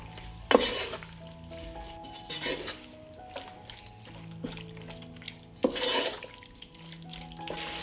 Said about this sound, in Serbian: Zatim dodajem meso i sve ću ovo pržiti zajedno 5 minuta.